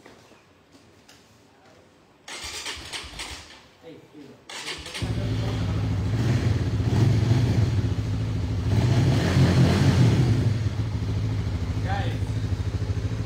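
A Honda CBR motorcycle engine cranks and catches after a quiet start, then settles into a loud, steady idle with revving, close to the microphone, with a voice speaking briefly early on.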